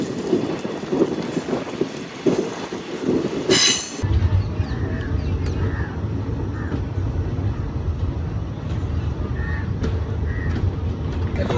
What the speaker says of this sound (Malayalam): ഇത് ഗുരുവായൂർ ചെന്നൈക്കൂർ എക്സ്പ്രസ് ആണ് കേട്ടോ